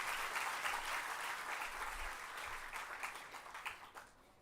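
A loud, sustained round of applause from students at an MBA and MCA orientation day at Anurag University, dense clapping that thins and fades out toward the end.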